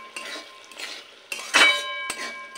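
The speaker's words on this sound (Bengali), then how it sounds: "ভালো করে একটু নেড়ে নেব" Fried potatoes stirred with masala in a pan, with a few separate scraping and clanking strokes of a metal spoon against the pan, close and fairly loud, and no voice.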